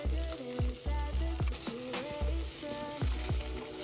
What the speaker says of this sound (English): before we add everything in the blender, we need to saute it first